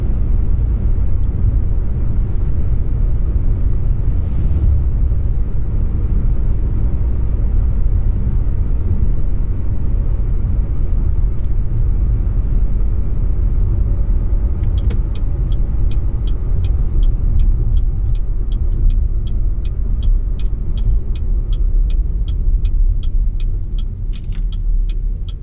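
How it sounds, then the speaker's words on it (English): Inside a moving all-wheel-drive car on a smooth road on Continental tires, a loud, steady low road and tire rumble runs throughout, with a faint rapid ticking appearing near the end and no talking. "I don't hear a lot of noise coming from the tires."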